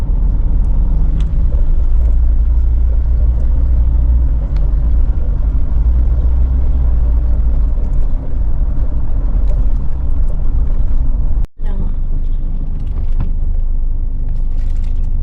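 Road traffic on the way to Tagaytay, heard as a dense, steady low rumble of car engines and tires close by, continuous and loud with one brief dropout near the end.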